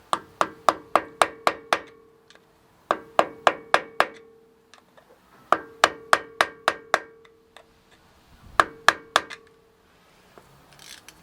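Metal lip on a Land Rover Discovery 1 front axle being knocked down with an old screwdriver during a strip-down: four loud groups of rapid, ringing metallic taps, each group five to seven quick strikes, close up with brief pauses between.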